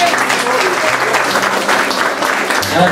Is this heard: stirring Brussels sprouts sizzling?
no